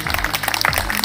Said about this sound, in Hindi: जोरदार तालियां बजाते रहे बच्चे